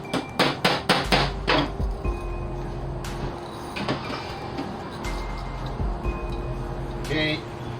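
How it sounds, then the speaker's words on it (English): A hammer strikes a tight engine part on a car with a power steering fault to loosen it. A rapid series of sharp metallic blows opens the sequence, with a few scattered knocks and a voice talking later on. "I hit it with the hammer, so it can get a little bit loose"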